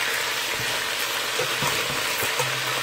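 Chicken pieces browning in an All-Clad pan, a steady close sizzle and frying hiss with occasional small pops and crackles, no voices.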